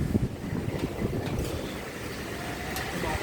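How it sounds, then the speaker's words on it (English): Strong wind gusting and roaring against the microphone in a small garden, rumbling and buffeting unevenly throughout. "Oh, it's very, very windy."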